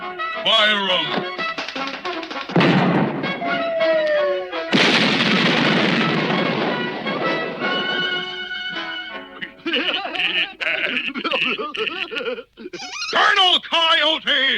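A cartoon cannon fires at a fort in an animated Underdog Show episode, with loud booming bursts among character voices and busy cartoon sound effects.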